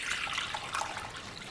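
Lukewarm water pours into a bowl for loukoumades dough, a steady quiet splashing stream heard close by with no voices.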